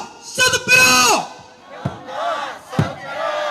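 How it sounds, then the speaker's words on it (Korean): A crowd at an outdoor candlelight rally against the THAAD missile deployment in Gimcheon shouts a protest slogan in unison: a loud, drawn-out collective yell, then shorter rhythmic chanted bursts with sharp hits. "구호로 인사드리겠습니다"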